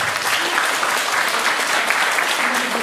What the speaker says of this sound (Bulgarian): аплодисменти за групата